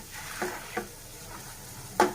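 Masala for a meal maker kurma frying in a pan and being stirred, with a few soft, scattered scrapes and a light sizzle, all fairly quiet, the last scrape a bit louder.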